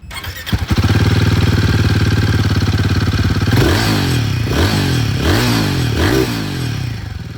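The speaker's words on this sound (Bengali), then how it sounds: "এক্সস্ট সাউন্ডটা আপনাদের শোনাবো" A Royal Enfield Guerrilla 450 Apex motorcycle with a metallic muffler cover starts up and idles with a loud, steady exhaust thrum close by, then gets four sharp throttle blips that rise and fall in quick succession.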